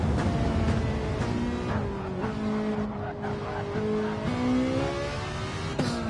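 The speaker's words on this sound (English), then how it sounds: "Mr. J using his downshifts to temper his speed" Race car engine in Gran Turismo 7, a Ferrari in a weekly online race, revving and dropping through downshifts with stepped pitch falls and faint tire squeal, under a commentator's voice.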